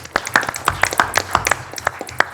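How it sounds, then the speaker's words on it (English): Scattered hand claps at a county Board of Supervisors meeting, a thin, uneven round of applause from a small audience in a hall, with sharp individual claps spread over a couple of seconds. "I think we all owe them a round of applause for this"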